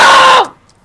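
A loud scream in the Minecraft Vampire game bursts out for under half a second, then cuts off abruptly into near silence.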